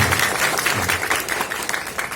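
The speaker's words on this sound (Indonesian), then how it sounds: "Tepuk tangannya yang semangat gitu." A crowd claps steadily and enthusiastically at the inauguration of a student organisation's officers at an Islamic boarding school, with dense, continuous applause filling the short clip.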